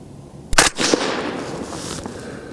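A single sharp suppressed shot from a 22 ARC rifle firing Hornady 80g ELD-X bullets at a target, a loud close crack followed by a trailing outdoor echo.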